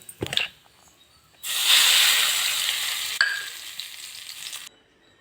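Curry leaves hit hot oil in a pan and sizzle loudly in a steady hiss for about three seconds, then settle into a softer crackling fry that fades out, with a brief clatter at the start.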